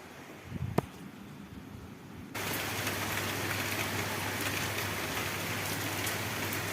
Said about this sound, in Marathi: सकाळी सकाळ या उठल्या उठल्या मी बघितलं आहे तो पाऊस सुरू आहे मी दाखवते तुम्हाला